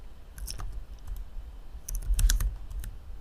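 Text is typed on a computer keyboard in two short bursts of crisp, close keystroke clicks separated by a brief pause.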